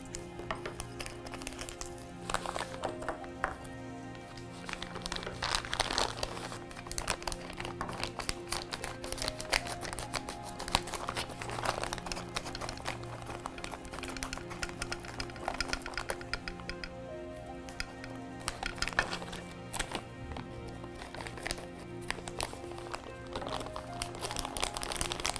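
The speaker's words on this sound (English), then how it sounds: "I suggest using scissors to open the parts." Plastic parts bags from a Mars Rover kit are cut open with scissors, giving a long, steady stretch of close crinkling, small snips and clicky handling noises with no voices.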